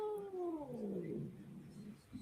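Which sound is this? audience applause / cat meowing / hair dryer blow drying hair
cat meowing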